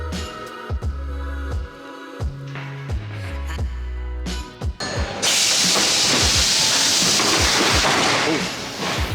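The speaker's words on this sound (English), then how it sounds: "the train pulled in" A Seattle monorail train pulls into a station: a loud rumbling passage with shifting low tones and clunks, then a steady, sustained broadband hiss as it arrives.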